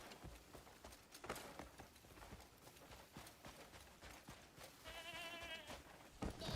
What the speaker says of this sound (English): Grab another goat.